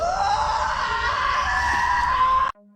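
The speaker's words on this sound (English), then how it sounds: "The screams grew louder, closer" Several people screaming together in a foggy forest, a sustained loud wailing chorus that holds steady for over two seconds before cutting off abruptly into near silence.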